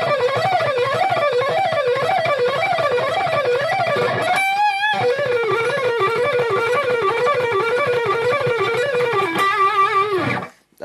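A sustained, heavily distorted electric guitar line with wavering, vibrato-laden notes, a brief rapid flurry midway, then a quick run before cutting off.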